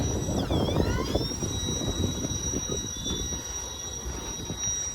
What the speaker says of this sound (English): And there's the end of this train, guys.